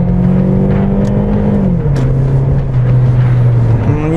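A car accelerating sluggishly on a city drive, its engine holding a low steady drone that drops in pitch as it shifts, with a mild rise again near the end.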